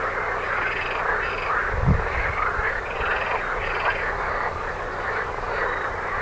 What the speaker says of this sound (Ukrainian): О, жаби хор підняли.